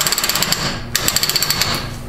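A Spartan locker inside a Ford 8.8 differential on an F150 ratchets as a wheel is turned, giving rapid, evenly spaced metallic clicks in two bursts separated by a brief pause.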